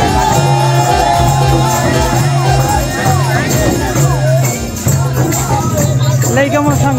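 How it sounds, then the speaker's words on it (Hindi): A large crowd at a Gaura wedding procession fills the scene with loud, continuous babble and scattered shouts, with voices calling over the dense hubbub. "भगवान गौरा के बाद जोर शोर के संग में निकले है, बहुत भीड़ है।"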